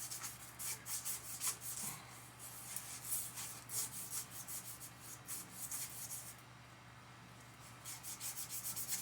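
Aluminum is rubbed off the steel crank rod of a 10 hp Briggs & Stratton generator engine, with quick rhythmic scraping strokes in bursts, a short pause partway through and no talk.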